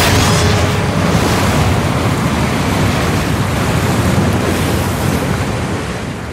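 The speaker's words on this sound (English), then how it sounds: "A prehistoric tsunami breaks on the shores of southern Europe." A huge prehistoric tsunami wave crashes onto a southern European shore, a loud, continuous roar of churning surf and rushing water that holds steady throughout.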